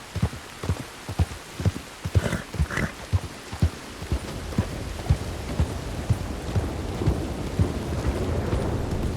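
Horse hooves clip-clopping steadily on a path while riding in Red Dead Redemption 2, a close rhythmic trot over a hiss of rain or ambient wash that grows denser later.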